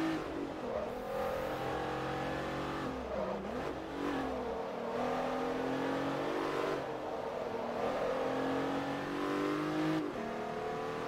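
Sports car engine in Forza Motorsport 3 on a Bilstein 250 HP run-off, revving hard through short early gears with repeated upshift dips, a continuous mid-level drone alone without talk.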